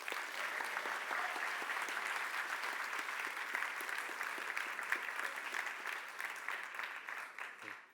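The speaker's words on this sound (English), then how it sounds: "would you give them a nice round of applause as well?" Audience applause greets a volunteer coming up at a Scratch Conference Europe talk, a steady, dense clapping that fills the room for the full stretch before tapering off at the end.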